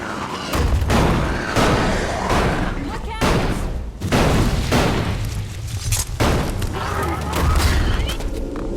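A shotgun fires in the video game ELEX: repeated heavy, booming blasts roughly every second, loud and close, mixed with dense combat noise and game sounds.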